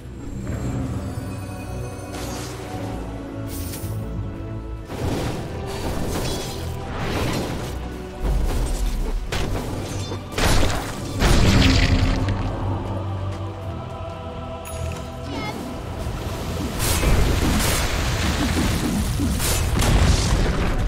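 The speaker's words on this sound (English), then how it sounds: "Dire's bottom tower is under attack." Dota 2 battle as a tower comes under attack: repeated loud booms, crashes and whooshing spell impacts pile up continuously, with heavy hits swelling near the middle and toward the end.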